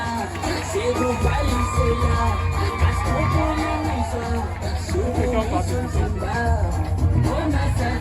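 A crowd of children at a school awards ceremony cheers and shouts continuously, loud and close, with whoops rising and falling through the sustained roar.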